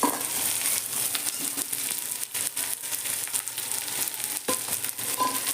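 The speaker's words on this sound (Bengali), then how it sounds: "রসুনটাকে কিন্তু বেশি ভাজবো না জাস্ট হালকা ভেজে নেব ভেজে নিয়েই আমি দিয়ে দিচ্ছি এখানে পেঁয়াজ কুচি কুচি করে রাখা পেঁয়াজ" Garlic and finely chopped onion fry in hot oil for a bread pakora dish, giving a steady, close, continuous sizzle with light crackle and no voices.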